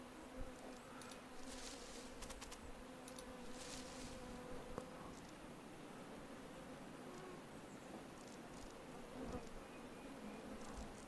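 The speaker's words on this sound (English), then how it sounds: "Lots of mosquitoes." Mosquitoes buzz in the woods of Card Survival Fantasy Forest, a faint, steady insect whine with a few brief passes drifting close, heard alone without talk.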